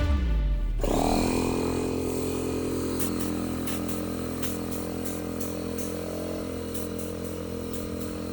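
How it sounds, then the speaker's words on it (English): An air compressor drawing about 700 watts from a homemade solar panel built with silicon CDs/DVDs starts with a thump, then runs as a steady, loud, close motor hum and rattle with a constant pitch throughout. "We connect the air compressor."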